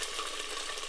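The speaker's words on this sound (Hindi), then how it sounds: "इसे हम अच्छी तरह से प्याज में अच्छे से भून लेंगे" Garlic and ginger paste frying with onions in a pan, a brief steady hiss of sizzling oil heard alone and close.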